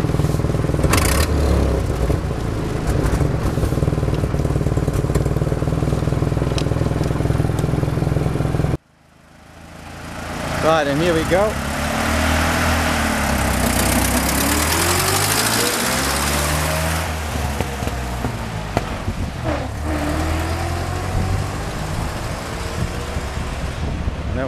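A 1924 Dodge 116 Tourer drives up and down a street, its engine rising and falling in pitch as it passes and gears are changed in a hurry, loud and close after a brief gap in the sound.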